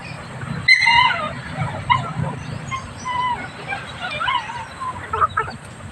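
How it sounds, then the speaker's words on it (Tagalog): Native chickens cluck and chirp close by while feeding, a loose string of short, busy calls that starts with a sharp, loud burst and carries on steadily. "Kumakain na sila mga kakariyang."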